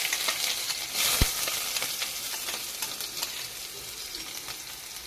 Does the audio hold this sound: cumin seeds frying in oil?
yes